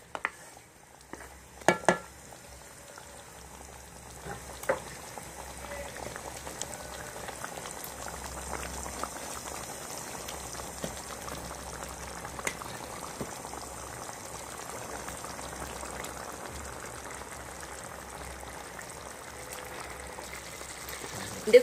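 Chicken with coconut simmering in a pan, a soft continuous bubbling and sizzle at low level, with a few sharp clinks of utensil against the pan near the start.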